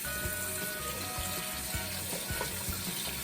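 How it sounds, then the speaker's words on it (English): Tap water runs steadily into a sink while it warms up for rinsing hair product out, a continuous close rushing stream with no talking. "I'm going to let that water warm up."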